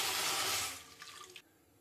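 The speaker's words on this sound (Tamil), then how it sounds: "இப்போ வந்து நம்ம தேவையான அளவுக்கு வந்து தண்ணி சேர்த்துக்கலாம்" Water is poured into roasted oats in a pan: a loud, rushing pour for under a second that quickly thins into a brief bubbling trickle and then stops.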